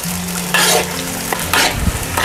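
Pork pieces fry over medium heat in a pan while being stirred, loud close sizzling broken by bursts of scraping and clattering from the stirring utensil, no voices.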